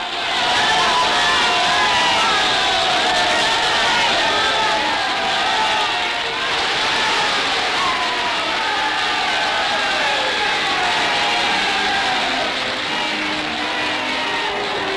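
A huge crowd of around 100,000 people cheering the King outside the palace in Valletta, Malta, a dense continuous roar of voices and shouts sustained at high level throughout.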